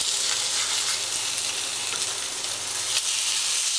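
Grass-fed beef burgers frying in a pan just after flipping, a steady, loud, close sizzle and hiss with no talking.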